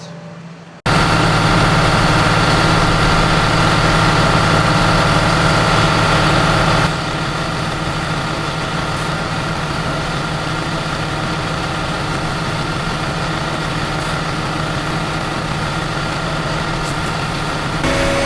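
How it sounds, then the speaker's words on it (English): Steady engine drone of a tractor running an air seeder fan while planting oats, heard up close. A constant low hum and broadband whoosh continue throughout with no talk, easing slightly in level partway through. "fire up the fan"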